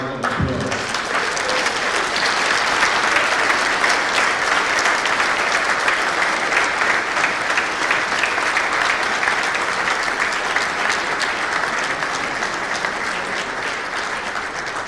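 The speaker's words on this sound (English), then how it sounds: "we give them a hearty round of applause" Applause for the Ghana delegation at a medical councils' scientific conference: a large audience claps loudly and steadily for about fifteen seconds, a dense wash of hands that begins abruptly and fades slightly toward the end.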